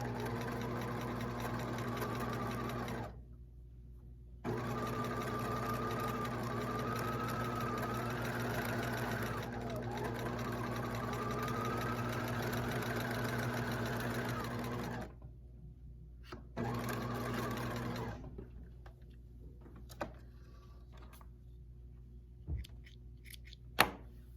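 A sewing machine stitches a seam in close, steady runs. It stops briefly several times, then finishes with a few scattered clicks and taps.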